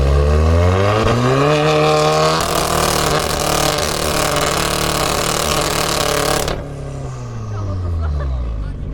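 A turbocharged car engine revs hard during an exhaust decibel measurement at Poprad airport, climbing steadily in pitch, roaring loudly up close, then suddenly drops off and winds down.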